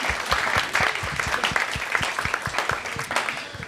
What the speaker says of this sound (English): Quick round of applause for Alex.